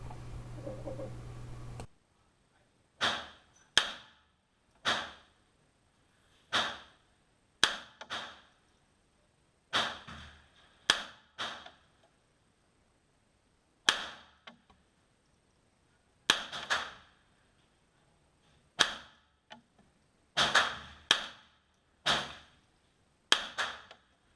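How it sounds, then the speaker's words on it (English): A Smith & Wesson M&P 1522 pistol fires .22LR rounds, about a dozen and a half sharp, close single cracks spaced irregularly, each decaying quickly, with quiet gaps between shots and no talking. "let's see how this ammunition performs out of our Smith & Wesson M&P 1522 pistol"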